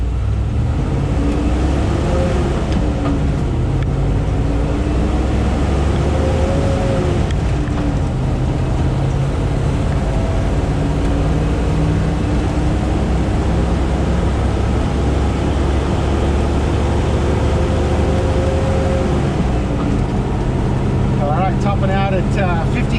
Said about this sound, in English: Topping out at 50k an hour in third gear, and then from 50 to 100 is all fourth.